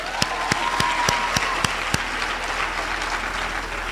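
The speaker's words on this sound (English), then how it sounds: "So a round of applause for our academics," Audience applause for academics at a university graduation ceremony, a steady wash of clapping with several sharp, evenly spaced claps standing out near the front, continuing throughout.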